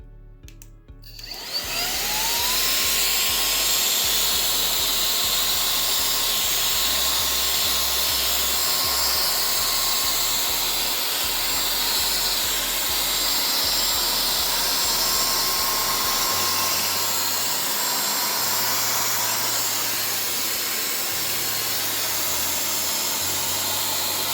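An electric blower sold as a compressed air replacement runs on its high setting, starting abruptly and then holding a loud, steady high-pitched whine and rushing airflow close to the microphone, with a slight drop in pitch near the end.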